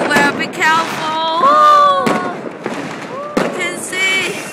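New Year's Eve fireworks go off in a Copenhagen street, with sharp bangs and crackles, whistling rockets and rising squeals overlapping, loud and close, while people's voices mingle in the din.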